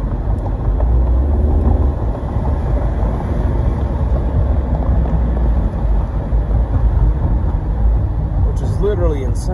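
A 2018 Ford Mustang EcoBoost convertible accelerates with a loud, steady engine drone and rushing road and wind noise, with a brief higher sound near the end.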